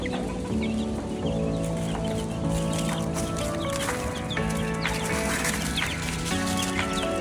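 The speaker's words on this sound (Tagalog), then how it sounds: "Kami, andyan na yung mga sisiw natin." Poultry farm brooding area with chicks and chickens, a dense chorus of steady high peeping and clucking with overlapping calls, close and continuous.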